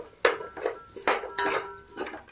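A spoon clinks and scrapes against a metal pan while stirring whole spices and biryani masala frying in oil for paneer biryani, several distinct knocks spaced irregularly, close and clear.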